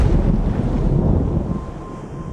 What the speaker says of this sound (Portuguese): No início da noite, um vento forte sopra e sua paz é destruída